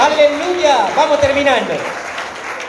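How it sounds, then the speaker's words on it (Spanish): Church congregation clapping briefly during a Spanish-language sermon, the applause mixed with a preacher's raised voice speaking over it before fading. "Den un fuerte aplauso al Señor, mi amado."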